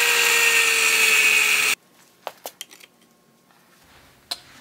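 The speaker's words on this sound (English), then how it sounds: "I'm going to go ahead and cut this guy out" Power tool cutting out a metal piece for a welding jig, a loud continuous grinding whine that stops abruptly, followed by several scattered clanks and taps of metal being handled.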